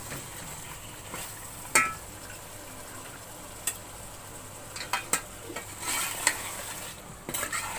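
Half a kilo of mutton sizzles with softened potatoes while being fried for aloo gosht, a soft steady hiss under irregular ticks and spoon clacks against the pot that grow busier toward the end, with no talking.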